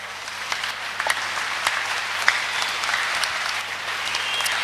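Church congregation claps together after a sermon, a steady mass of applause with a few sharper individual claps standing out, and a low hum underneath throughout.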